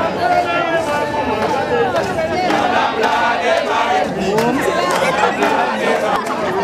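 A crowd greets judo champion Teddy Riner at his airport arrival in Guadeloupe, a dense, continuous roar of overlapping voices and rhythmic shouting, loud and close throughout.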